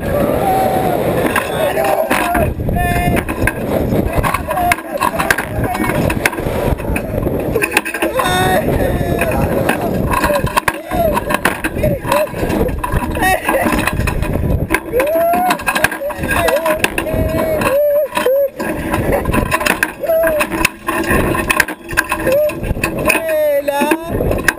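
La Boule fairground ride launching and spinning at a Paris fair, a loud continuous roar of rushing wind and rumbling machinery with shouting riders over it throughout.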